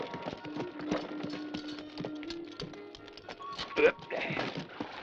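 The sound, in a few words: horses' hooves as a stagecoach pulls in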